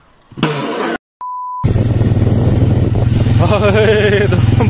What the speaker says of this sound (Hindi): तो बाइक चलानी पड़ गई यार